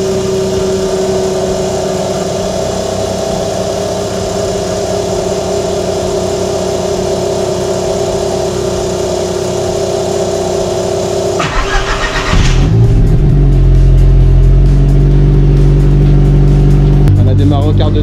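A Volkswagen Golf engine starts after a steady background hum, catching with a sharp turnover and then settling into a loud, even idle close by.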